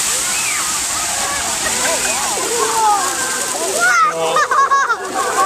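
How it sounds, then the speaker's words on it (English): One cup of water poured onto a burning cooking oil fire during a fire safety demonstration, producing loud splashing and violent sizzling bursts, with a child and an adult speaking over it. "what happens if you put water on the cooking oil fire"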